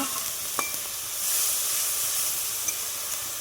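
A ground paste of cashew, tomato, green chilli and onion sizzles steadily in hot oil, a continuous close hiss with faint stirring scrapes and a brief louder surge midway.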